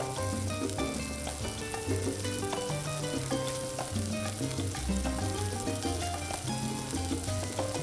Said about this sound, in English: So you can hear them sizzling